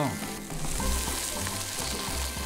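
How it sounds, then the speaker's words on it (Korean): Steady, close sizzling of clams cooking over a hot grill, a continuous crackling hiss with faint popping, no voices. "지글지글지글 소리가 잘 들리시나요? 조개가 잘 익어가는 소리죠."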